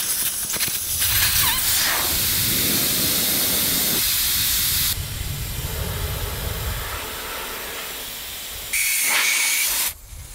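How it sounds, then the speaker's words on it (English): Air hisses loudly and steadily from an off-road vehicle tyre as its pressure is let down for dirt tracks, continuous for about ten seconds with a brief louder surge near the end. "let the tyre pressure down, make these dirt tracks a bit more comfy"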